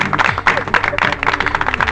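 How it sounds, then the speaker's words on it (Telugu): An indoor audience applauds at an art auction after a record bid for a young painter's work, giving loud, dense, steady clapping from a crowd with voices mixed in. "ఈ క్లాప్స్ అభినందనలు నాకు కాదు."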